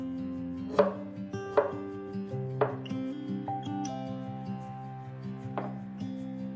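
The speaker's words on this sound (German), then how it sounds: "Lauchzwiebel in Scheiben schneiden. Ingwer in Scheiben schneiden." A knife slices through spring onions and ginger on a board, making about five distinct chopping knocks at an unhurried pace over steady background music.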